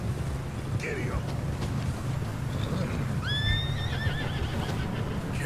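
A horse in the Red Dead Redemption 2 video game gives a bright whinny over steady hoofbeats and wind, with a short neigh earlier and a voice speaking.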